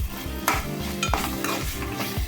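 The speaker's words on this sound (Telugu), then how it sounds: "ఒక స్పూన్ అల్లం వెల్లుల్లి పేస్ట్ అండి ఇది కూడా పచ్చివాసన పోయేదాకా వేపుకోవాలండి" Ginger garlic paste fries in hot oil while a spoon stirs it, giving a steady close sizzle with sharp utensil scrapes and knocks against the pan at irregular intervals.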